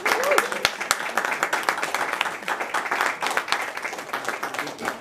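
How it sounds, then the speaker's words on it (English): Audience applause for students called up at a school district board meeting, a moderate patter of clapping from a crowd with voices murmuring underneath, fairly steady throughout. "Round of applause."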